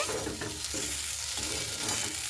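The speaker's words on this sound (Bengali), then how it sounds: "তো খুব ভালো মতো করে আমি নাড়াচাড়া করে নিচ্ছি।" Onions being stirred in a pan while leftover rice is cooked, giving a steady frying sizzle with soft scraping strokes, close and continuous, no voices.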